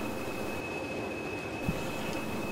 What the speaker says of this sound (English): by a British Rail Class 20, which is done up in London Underground sort of colours and named Sherlock Holmes.